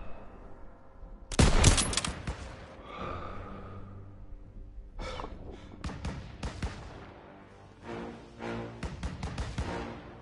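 Gunfire in a Call of Duty WWII battle: a loud burst of shots near the start, then rapid bursts of automatic fire and scattered shots with effects that continue in clusters.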